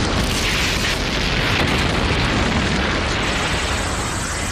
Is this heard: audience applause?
no